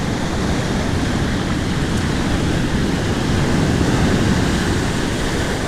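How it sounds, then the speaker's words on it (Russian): Ocean waves on a white-sand beach in Bali make a loud, steady, broadband roar of surf, continuous and close, with a faint hint of wind and no talking. "Так что здесь можно наблюдать за волнами."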